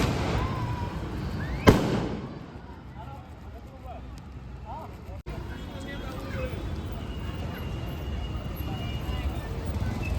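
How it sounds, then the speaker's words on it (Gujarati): Firecrackers set off outdoors at the opening ceremony for a new travels company vehicle, with one sharp loud bang near the start followed by a steady crowd-and-traffic hubbub with voices throughout. "અહીંયા ફટાકડા ફોડે બધાય."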